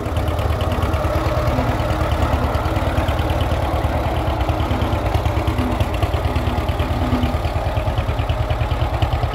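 A John Deere two-cylinder tractor engine runs steadily nearby, giving a loud, even, rhythmic chugging with no talk.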